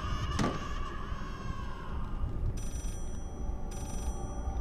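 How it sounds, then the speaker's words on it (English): An old telephone rings in the horror game Layers of Fear, two bright ringing bursts cutting through a dark droning ambience after an early thump, with no talk. "Where is telephone? Who's phone? Hello?"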